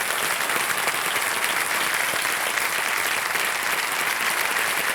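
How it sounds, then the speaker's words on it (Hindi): Loud, steady applause from a large studio audience on a televised quiz show, sustained dense clapping without a break as a contestant, a retired government officer from Patna, Bihar, takes the hot seat. "जोरदार तालियां बज जाए अमित सिन्हा जी के लिए।"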